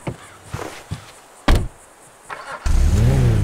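The Karin Futo, a sports car in GTA 5, gives a few short mechanical clunks and a sharp door-like thump, then its engine rises into a loud, steady rev at the end.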